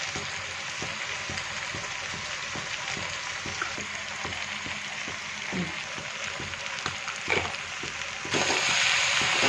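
Vegetables fry in a pan with turmeric, salt and cumin powder while a spatula stirs them, giving a steady soft sizzle broken by regular light scraping strokes, fairly quiet and close.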